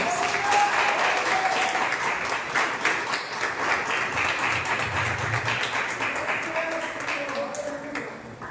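A church congregation applauds with sustained, dense clapping throughout, fading slightly toward the end, with a voice speaking over it.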